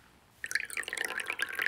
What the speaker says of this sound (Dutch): Zit je dan toch thee voor me in te schenken?